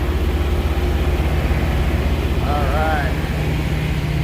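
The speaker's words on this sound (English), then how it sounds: "we ignore all this loud noise from these reefer units" Refrigerated trailer reefer units run loudly at a truck stop drop yard, a steady heavy engine drone and low hum filling the background while someone speaks briefly over it.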